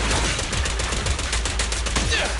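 Video game gunfire rattles in rapid, dense bursts like a machine gun, loud and continuous over a low rumble.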